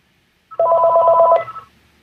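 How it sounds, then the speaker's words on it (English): A telephone rings once, a single warbling electronic burst of about one second, close and clear with no talk over it. "Give it 5 minutes, the phone will ring again."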